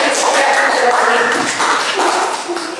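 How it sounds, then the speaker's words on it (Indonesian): Audience applause fills a room at a school event on positive discipline, a dense, steady burst of clapping from many hands that stays loud for about three seconds before easing slightly. "Kita kasih aplaus yang meriah"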